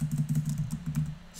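A computer keyboard being typed on while entering a terminal command, a quick run of close, light keystrokes in a steady patter.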